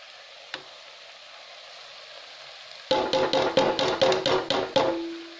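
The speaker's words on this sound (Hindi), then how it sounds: "अब ये प्याज लहसुन और हरी मिर्च अच्छे से फ्राई हो चुकी है। अब इसमें हम जो हमने मूली कद्दूकस करके रखी थी वो इसमें ऐड कर देंगे।" Grated radish drops into a pan of frying onion, garlic and green chili, making a quiet sizzle, then a loud burst of crackling with a rapid series of sharp scraping stirs.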